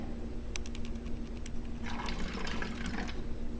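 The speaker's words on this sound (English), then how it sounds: "And then I'm going to pour a little bit of water to distill it." Water is poured into a homemade fly spray mixture, a short splashy trickle and gurgle of liquid filling a container after a few light clinks, close and moderately loud.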